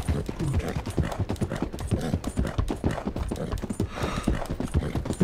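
Rapid hoofbeats of a horse galloping in Red Dead Redemption 2, steady and close, with a dense rhythmic clatter running throughout.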